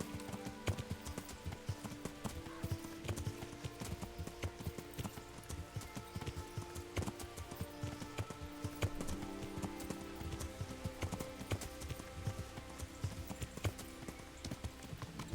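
Steady rhythmic clip-clop of horse hooves at a trot in the video game Kingdom Come: Deliverance, continuous and fairly close, over a faint game ambient background with no talking.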